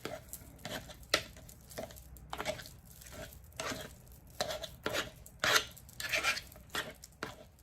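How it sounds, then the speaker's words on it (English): Fork mashing scooped avocado in a bowl for guacamole: a run of soft, wet squishing presses and scrapes in an uneven rhythm, close and clear with no talking. "And then we're just going to use our fork and mash it."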